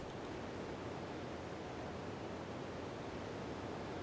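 Breath of the Wild's huge waterfall gives off a continuous, even roar of falling water in Master Mode, dense and unbroken from start to finish, with no talking.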